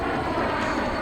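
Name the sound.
Lockheed aircraft making inverted pass at airshow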